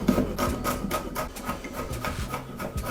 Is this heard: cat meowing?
no